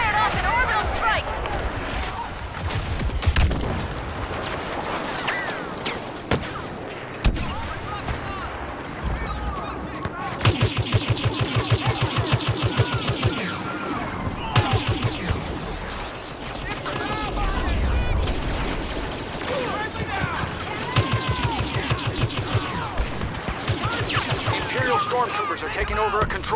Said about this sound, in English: They fired off an orbital strike!